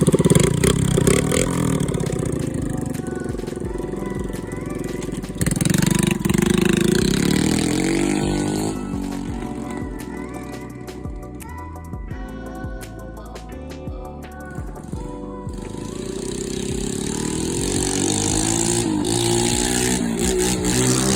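A Suzuki DRZ125L converted to run a 110cc electric-start pit bike engine, exhaust not yet finished, runs steadily and loudly close by, with blips of revving and throttle changes over about twenty seconds.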